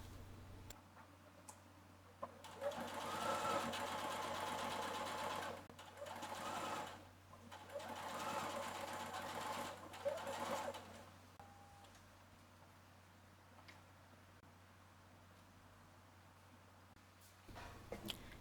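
Sewing machine running in bursts as it stitches the drawstring channel edge of a summer dress, about 2 mm in from the fold, with steady close needle ticking separated by short pauses; no talking.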